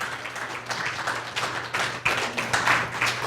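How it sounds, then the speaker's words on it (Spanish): A church congregation claps during a Spanish-language service, scattered uneven handclaps building into denser applause over a few seconds, moderately loud in a reverberant room. "Den un aplauso al Señor."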